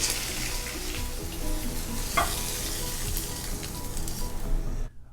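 Tofu frying in oil in a pan, a dense, continuous sizzle with stirring and the scrape of a utensil, close and alone, cutting off abruptly at the end.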